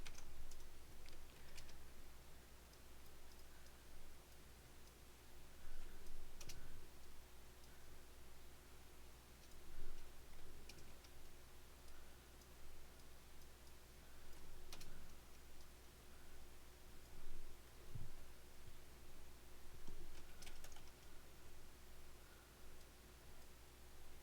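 Soft, irregular clicks from a computer keyboard being typed on, quiet and steady over a low room hum, with a few sharper taps standing out; no one speaks.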